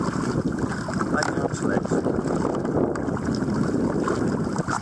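Strong wind buffets the microphone in a constant rushing roar over the open sea while kayak fishing off Hopton, Norfolk, and someone speaks briefly through it.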